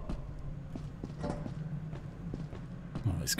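Horse hooves clip-clop softly in a video game, a faint steady patter of steps running under ongoing talk.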